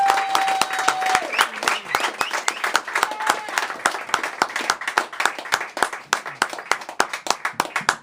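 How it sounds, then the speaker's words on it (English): An audience claps for a spoken word poet at a poetry night, a dense run of sharp individual hand claps that thins and scatters toward the end, with a whistle at the start. "Clap it up for him."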